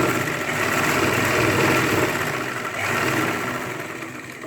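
A sewing machine runs a steady continuous stitch along the seam of a ladies' pant, a loud even mechanical drone that holds for several seconds with a slight dip midway and no talking.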